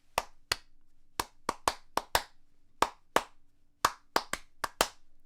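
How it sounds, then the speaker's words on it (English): Hands clap out a melodic rhythm alone, about seventeen sharp, close claps in uneven groupings with short gaps, crisp and dry against a quiet background. "So if you just clap your melodic rhythms, are they as good as when you clap what we just heard"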